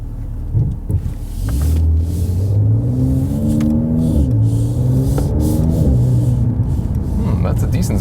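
A Mercedes C43 AMG engine revving in sport mode, rising and falling through several loud, close swells of rumbling engine tone over about eight seconds, with a short burst before the main rev.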